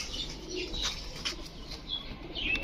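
Racer pigeons, including a checker racer hen, coo softly in a low, repeated rhythm, with a few sharp chirps and brief wing flutters nearby.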